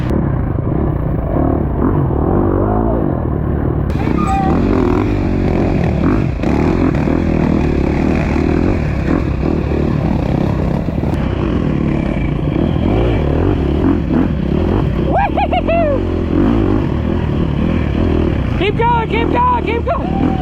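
Enduro dirt bikes race along a slick trail through Georgia pine woods at the Cherokee National Enduro, engines revving hard and easing off without a break, loud and close, with a rider's voice now and then under the roar.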